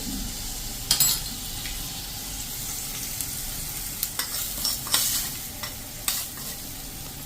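A hot tempering with dried red chili is poured onto chutney, giving a continuous loud sizzle with scattered crackles and pops and a few clinks of a spoon or pan, with no talk.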